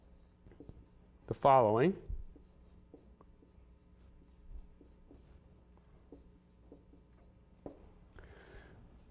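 Faint scratching strokes of writing on a board during a lecture, with a short spoken phrase near the start and light taps scattered through an otherwise quiet room.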